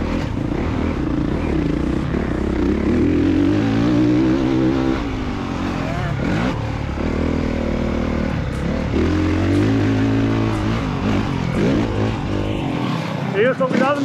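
A motocross bike ridden on a dirt track near Recoaro, its engine droning loud and close throughout, rising and falling in pitch as the rider works the throttle and shifts.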